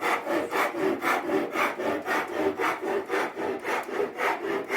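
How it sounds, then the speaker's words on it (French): A wooden tenon is rasped by hand before it goes into its mortise, giving a steady series of about a dozen rhythmic, scratchy strokes, close and fairly loud, with no voices. "Et avant qu'il rentre, il faut aussi limer."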